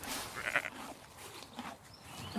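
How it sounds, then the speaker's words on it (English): Sheep bleat in a sunny video game meadow, a short wavering bleat near the start followed by softer fainter calls, moderately close with light background noise. "Sheep."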